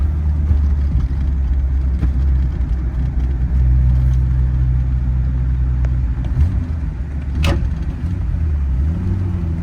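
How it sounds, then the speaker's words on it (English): A 1932 Chrysler CP8 rumble seat coupe cruising at about 35 mph in third gear, its engine giving a steady low rumble that holds even throughout, heard from inside the car with no talking. "35 miles an hour, comfortable cruise in third."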